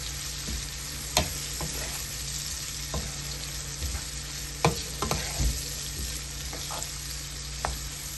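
Chopped onions sizzle and fry steadily in a pan for Bengali-style pasta, a continuous close crackle with occasional sharp stirring clinks and spatula scrapes, no voices.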